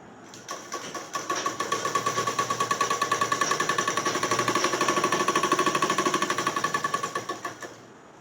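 A sewing machine joins four layers of fabric for an umbrella frock with a strong seam, making loud, close, rapid rhythmic stitching that runs steadily for several seconds before slowing and stopping.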